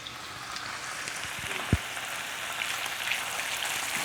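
Pieces of meat sear in a hot pan with a steady, dense sizzle and crackle of popping fat, moderately close, with one sharp clink partway through and no talking.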